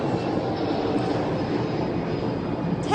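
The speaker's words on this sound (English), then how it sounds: "It's a loud airplane." Loud airplane passing overhead outdoors, a broad continuous roar that holds steady throughout, heard from a walking spot with no talking over it.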